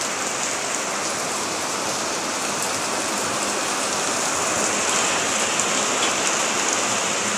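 Heavy typhoon rain pours without a break, a dense, even roar of drops hitting surfaces at steady loudness.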